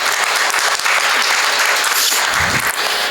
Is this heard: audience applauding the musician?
yes